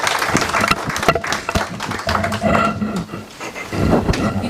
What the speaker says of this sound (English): We continue clapping.